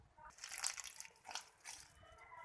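Water is poured into flour dough being kneaded by hand, producing soft wet squelching and splashing bursts in uneven pulses, quiet and close.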